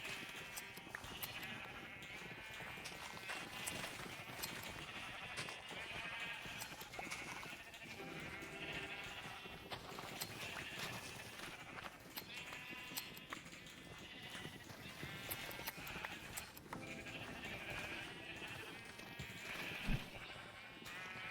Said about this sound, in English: There are enough sheep here